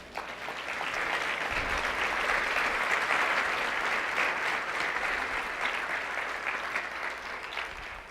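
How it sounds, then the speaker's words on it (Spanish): Sustained applause from a congregation at a church service, steady and full for several seconds with dense overlapping clapping and no talking. "Dale palmas al Señor."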